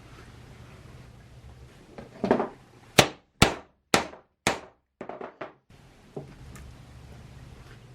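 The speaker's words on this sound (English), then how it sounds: "we can hammer the ferrules over a flat steel bar using a blunt chisel" Sharp metallic clangs ring out as a blunt chisel is hammered to crimp cable ferrules over a flat steel bar, four loud evenly spaced strikes followed by a few quicker, lighter taps, close and clear.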